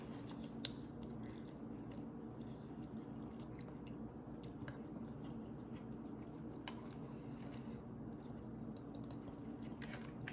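Close, steady chewing of an almond flour tortilla, soft squishy bites with occasional faint crunches repeating over a constant background hum, no talking.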